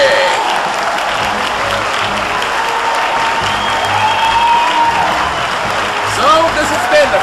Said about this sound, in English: Big round of applause for Luke Green